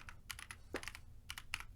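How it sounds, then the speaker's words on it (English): A computer keyboard is typed on in short bursts of crisp key clicks, a few quick taps separated by brief pauses, faint and close. "type on the correct keyboard"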